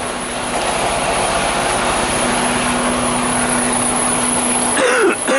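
A small aircraft takes off under a loud, steady engine roar with a constant drone, holding nearly unchanged before cutting off abruptly near the end.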